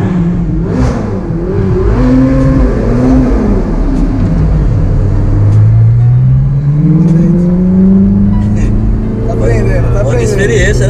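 A Ferrari convertible accelerating on a city street, its engine rising steadily in pitch as it revs and pulls away, loud and close, while people talk over it throughout.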